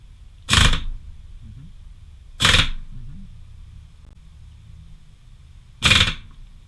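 A 2003 Saturn Vue VT25E transmission bolt is snugged down with a tool, giving three sharp, loud clicks spaced a couple of seconds apart against a quiet background.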